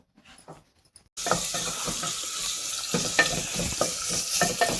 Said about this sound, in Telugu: ఆనియన్స్ కొంచెం గోల్డెన్ బ్రౌన్ కలర్ వచ్చేంత వరకు ఆయిల్లో కొంచెం ఫ్రై చేసుకోండి